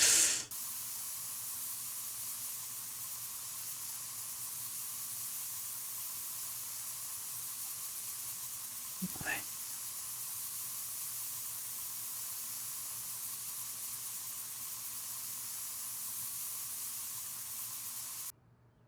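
Spray paint hissing from a paint gun while a kitchen is painted in Spray Paint Simulator, a continuous steady spray that runs almost unbroken for the whole stretch, with one brief knock partway through.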